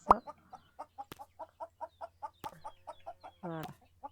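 Hen clucking in the farming game Farming Supermarket Simulator: a steady series of short, even clucks, with a couple of sharp clicks and a brief rising squawk near the end, fairly quiet and without speech.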